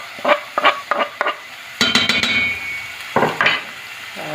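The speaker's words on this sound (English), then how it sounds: "I'll give it a good stir." Garlic stirred in a pot as the base of cream of mushroom soup: a utensil scrapes and clatters against the pot in short bursts, with a longer stretch of louder stirring and a faint sizzle in the middle, close up and with no voices.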